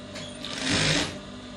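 Close by, a sewing machine stitches trouser fabric in a brief continuous whir that swells and eases off, with no talking over it.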